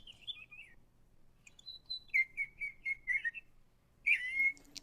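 Small sparrows playing on roof tiles give bright, clear chirps and short whistled calls in quick runs, with a louder burst of calls near the end, close by and otherwise quiet.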